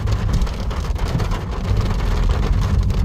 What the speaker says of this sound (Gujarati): મોટા મોટા છાંટાવાળો વરસાદ આવ્યો